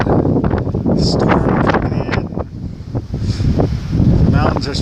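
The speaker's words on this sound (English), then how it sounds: "windy and there's a storm coming in." Strong wind buffets the microphone outdoors as a storm approaches, a steady roaring rush with gusts that rise and fall throughout.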